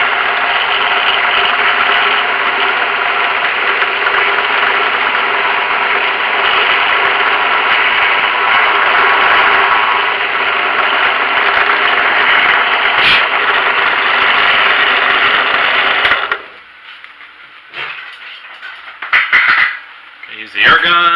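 Drill boring a hole in a workpiece, its bit kept cool while cutting, gives a loud, steady whirring grind for about sixteen seconds. It then stops abruptly, leaving brief, quieter handling noises.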